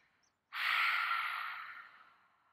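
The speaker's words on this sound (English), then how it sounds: "Take some audible exhales." A single long, breathy exhale from a yoga practitioner during a morning yoga session, starting abruptly and fading slowly over about two seconds, close and clear with no talk.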